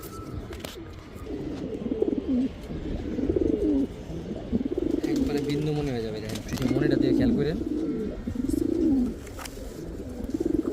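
Giribaj high-flyer pigeons coo in low, rolling, repeated calls close by, while a person talks over them.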